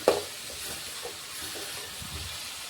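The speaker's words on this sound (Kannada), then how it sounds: "ಇದು ಒಂದು ಸ್ವಲ್ಪ ಇದೇ ರೀತಿ ಫ್ರೈ ಮಾಡ್ಕೊಂಡು ತೊಗೋತೀನಿ" Onions fry quietly in a pan for a vegetable palya, a faint, steady hiss with a soft clink at the start.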